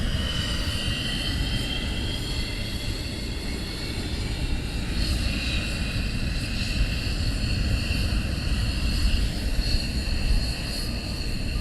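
United States Air Force military jet at RAF Lakenheath, a steady broad engine roar with a high whine holding at an even, fairly loud level throughout, no voices.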